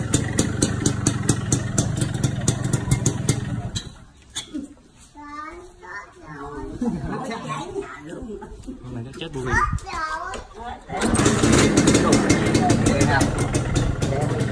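A Suzuki Satria (Xipo) motorcycle engine idles loudly and close with a steady rapid thrum. It drops away while someone talks, then returns at full strength at the end.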